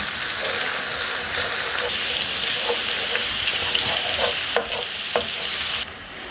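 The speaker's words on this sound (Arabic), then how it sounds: "نقلب الثوم كويس لحد ما ياخد اللي هو اللون الذهبي ده" Minced garlic sizzles steadily in hot oil as it is stirred toward golden, a close, continuous frying hiss with occasional scrapes and clicks of the utensil against the pan.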